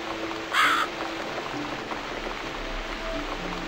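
A crow in The Cat Lady gives a single loud caw, close and brief, over a steady backdrop of falling rain.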